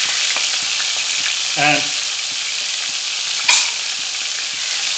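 Crushed garlic and ginger sizzle steadily in a hot pan for a Kashmiri chicken yakhni, a loud close frying hiss with a couple of brief stirring scrapes and clatters; a voice speaks a single short word.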